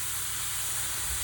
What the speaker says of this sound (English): So now put the ice cubes on the tray and then straight in the oven and get it going.